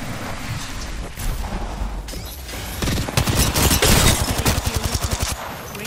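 Rapid gunfire bursts and automatic weapon fire in the video game Apex Legends, with a quieter opening that builds into loud, dense machine-gun rattling with rhythmic repeated shots, no talk.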